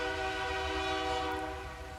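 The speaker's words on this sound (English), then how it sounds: "Oh, we got a train going by." A train passes during a trail race broadcast, its horn sounding a sustained, harmonically rich blast that fades slightly toward the end, with a rumbling rail-car undertone.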